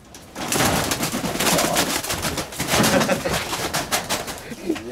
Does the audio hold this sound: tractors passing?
no